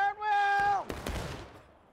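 Muskets volleying in the Civil War game War of Rights: a long shouted command rings out, then a ragged crash of several shots in two close bursts, trailing off into echo.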